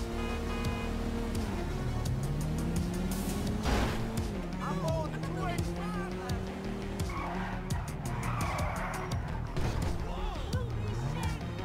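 A car in Grand Theft Auto 5 drifts and skids, its engine droning and shifting pitch while tires squeal in repeated screeching bursts over roughly twelve seconds, with someone talking over the action.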